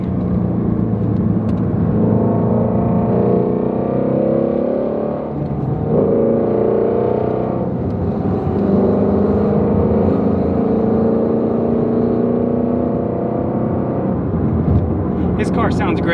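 A Dodge Hellcat Redeye accelerates hard at high speed, its engine roaring and droning continuously with rising and shifting pitch, heard from a following car with voices talking over it.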